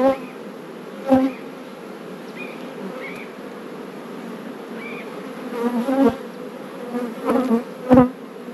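Honey bees drone steadily around beehives while a beekeeper searches for the queen to pull a brood frame, a continuous mid-level buzz with several louder passes of individual bees close by.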